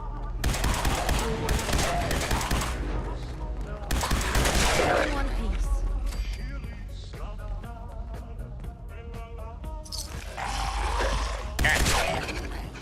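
Gunfire in the video game Fallout 4 at Fort Hagen: bursts of loud, close shots in several clusters, separated by quieter stretches with clanking and creaking game sounds, no talk over them.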